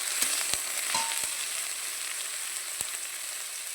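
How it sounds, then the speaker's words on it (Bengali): Onion paste fries in hot oil with a loud, continuous sizzle and hiss, broken by several sharp taps of a spoon against the pan. "এবারে পেঁয়াজ বাটাটা দিয়ে দেবো। এটাকে আমি ভালো করে একটু ভেজে নেবো।"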